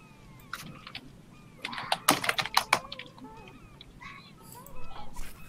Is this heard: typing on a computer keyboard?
yes